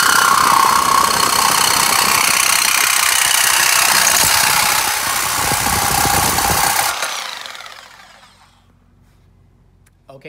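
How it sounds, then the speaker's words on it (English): A reciprocating saw cutting through material at its mark, a loud continuous buzzing rasp for about seven seconds that then winds down and stops, leaving near silence. "Just place the Sawzall right firmly to your mark and go for it."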